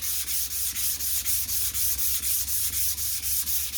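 A vintage knife-sharpening stone is scrubbed flat on 240 grit sandpaper, making a close, steady back-and-forth rasp of about a dozen even strokes in a regular rhythm, with no talking.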